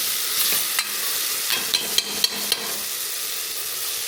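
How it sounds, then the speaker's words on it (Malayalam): Curry leaves frying in ghee in a pressure cooker, a continuous close sizzle and crackle with a few quick spoon taps and scrapes against the metal, no voices. "ഇതിൽ കറിവേപ്പില ഇട്ടോ."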